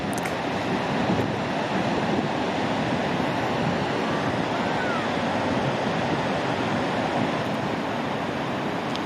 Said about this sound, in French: Je vais filmer un petit peu plus les vagues, les grosses vagues.